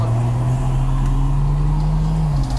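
A tuned 800hp Ford Falcon FG FPV F6 with paddle shift drives on a wet street, its engine holding a loud, steady, droning hum with a brief dip near the end, close and unbroken.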